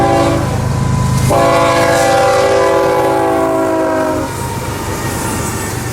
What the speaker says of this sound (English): Making the turn from the Seaboard Airline to the Atlantic coastline is CSX train N040.